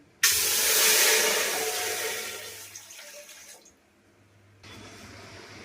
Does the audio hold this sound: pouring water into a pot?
yes